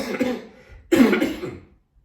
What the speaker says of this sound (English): Sorry, I'm having a cough